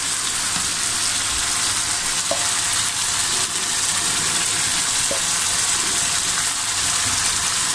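Two kilos of chicken go into hot oil in a karahi for charsi karahi, giving a steady, loud broadband sizzle and hiss that holds for several seconds with faint stirring clicks.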